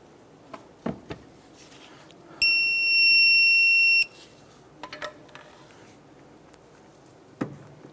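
A digital torque wrench gives one steady, loud beep lasting about a second and a half while a castle nut on a 2006-2013 Chevrolet Impala steering knuckle ball joint is torqued, amid faint scattered tool clicks and knocks.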